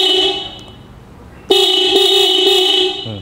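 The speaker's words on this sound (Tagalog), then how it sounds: "Pang ano na, pang SUV na yung busina natin." A loud aftermarket horn fitted to a motorcycle is tested, with a steady tone fading out, then a second, sharper, car-like blast held for nearly two seconds, very close and piercing.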